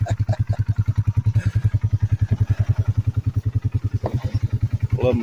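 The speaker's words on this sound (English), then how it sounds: "I love my Polaris Sportsman." A Polaris Sportsman ATV engine idles nearby with a fast, even thumping beat that stays loud and steady, and a brief voice cuts in near the end.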